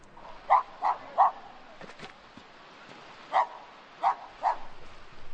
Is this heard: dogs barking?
yes